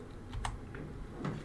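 Rapid clicks of a computer keyboard being typed on while someone plays a fan-made Halloween PC game, the scattered keystrokes close and crisp over a low background rumble.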